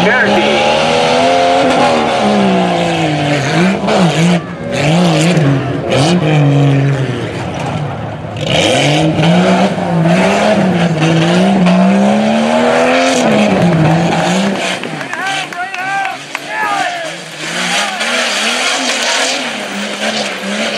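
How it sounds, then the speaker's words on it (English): A 1992 two-wheel-drive Jeep Cherokee competes at the Lebanon Tuff Trucks event, its engine loudly revving and bogging in rising and falling surges with tire noise, while an announcer talks over the crowd din. "going to see Jeremiah Creasy from Cloryville drive a 92 Jeep Cherokee"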